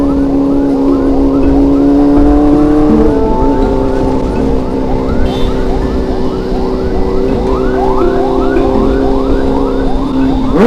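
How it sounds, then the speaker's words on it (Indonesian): An ambulance siren blares loud and close in traffic as a big motorcycle escorts it through a blocked road, its rapid rising yelp repeating without pause over a constant engine and road rumble. "ambulan pak"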